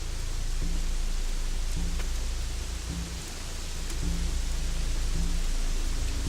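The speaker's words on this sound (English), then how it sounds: "as you can hear in the background, of course, it's raining" Steady rain pours in Gothic 3, a dense, continuous hiss of falling water with no voices, and soft low tones from the game's ambient score recurring beneath it.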